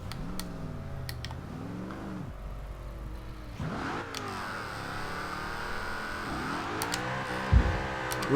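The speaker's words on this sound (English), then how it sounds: "A little bit of a spinny start, but quickly catches grip" A 2010 Noble M600 in Forza Horizon 2 accelerates from a start, its engine revving up through rising pitch sweeps with gear changes, a brief wheelspin whine, then climbing steadily and loudly.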